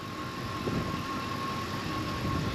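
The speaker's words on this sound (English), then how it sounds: "now we know we got an engine that's running" 1994 Ford F150 truck, flooded and left sitting for eight years, idles with a steady, fairly quiet engine drone and a faint constant whine, unbroken and alone.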